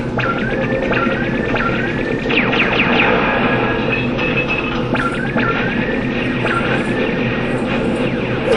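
A propulsor in the video game PK: Out of the Shadows gives a continuous loud mechanical roar, overlaid with repeated rising electronic chirps and whooshes at a steady rhythm.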